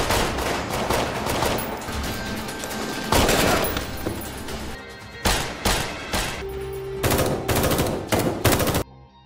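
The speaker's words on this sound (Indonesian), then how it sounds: "Baku tembak berlangsung sengit hingga Nurit tertembak di kakinya" Heavy gunfire exchange in a film scene with Belgian police, dense bursts of automatic and single shots crackling loudly and continuously, with brief pauses between volleys.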